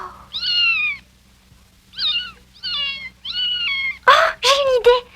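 A small cat meows repeatedly nearby, several drawn-out, rising-and-falling cries separated by pauses, the last ones louder and more strained, with a faint low hum underneath.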